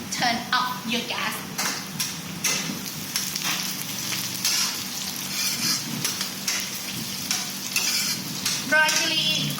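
Chopped onion and dry chilli sizzle and hiss in a hot pan at a Thai cooking class, steady frying noise with repeated scraping stirs throughout, loud and close.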